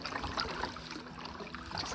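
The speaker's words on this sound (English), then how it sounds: "Just paddling around the campsite" Canoe paddle dipping through lake water on a quiet Haliburton Highlands lake, soft trickles and drips close by, steady and gentle over a faint outdoor background.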